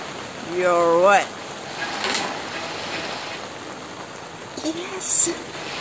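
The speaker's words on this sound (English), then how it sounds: "Yes. It's raining." Steady rain falling at night, a soft continuous hiss that fills the whole stretch, with a voice speaking briefly over it near the start and again toward the end.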